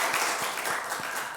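A church congregation claps in a short, full burst of applause, close and fairly loud, fading slightly toward the end.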